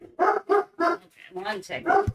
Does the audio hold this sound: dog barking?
yes